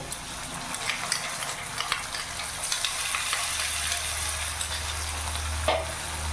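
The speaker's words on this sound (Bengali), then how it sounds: "পেঁয়াজটা ভাজা হয়ে গেছে, এখানে আমি আদা রসুনের লঙ্কার পেস্ট 2 চামচ দিয়ে দেবো।" Ginger, garlic and chili paste sizzling in a pan with fried onions, a steady frying hiss with small stirring scrapes and a low rumble building underneath.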